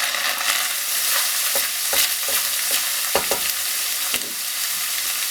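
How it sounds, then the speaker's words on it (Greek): Food fries and sizzles in its own fat in a pan while zucchini lasagna is being prepared, a dense crackling hiss broken by sharp scraping clicks of stirring, close and loud throughout. "Μόλις πιει όλα του τα υγρά και αρχίζει να τηγανίζεται το δικό του λίπος"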